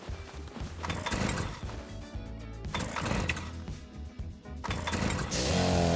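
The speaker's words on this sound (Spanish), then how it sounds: "Motosierra." A chainsaw in the survival video game Rust sputters and revs up as it is started. The engine noise is loud and close and rises into a steady whine near the end, over a cluttered game background.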